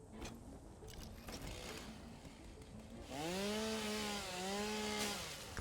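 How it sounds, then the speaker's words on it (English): A chainsaw in the factory-building game Satisfactory revs up loudly after a stretch of background noise, its engine whine rising and dipping over a couple of seconds. "Chainsaw again."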